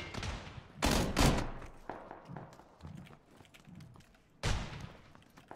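Shotgun fire in PUBG, a few sharp, heavy blasts heard at moderate distance, two in quick succession and another a few seconds later, with softer footsteps and movement between them.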